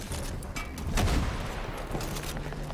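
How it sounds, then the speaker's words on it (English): Enemy gunfire in the video game Far Cry 6: a dense, continuous burst of shots with heavy booming low end, loudest around the middle, with no voices. "See, the enemy's shooting at me"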